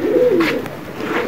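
Pigeons at a loft give a low, throaty coo, a couple of soft rolling calls close by against a quiet background.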